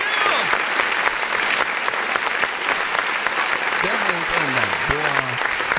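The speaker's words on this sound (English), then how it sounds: "we're going to clap for that" A crowd at an outdoor gathering on the Capitol steps claps loudly and steadily, with a few voices calling out over the applause.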